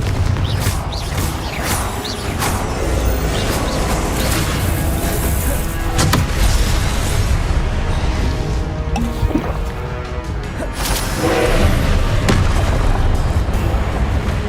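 Confringo fire spells cast in Hogwarts Legacy set off repeated booming blasts with crashing debris, several sharp explosive hits standing out over a constant rumbling game soundscape.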